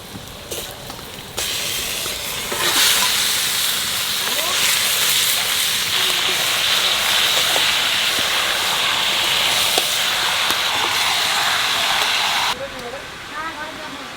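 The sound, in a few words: mutton added to fried onions, sizzling in pan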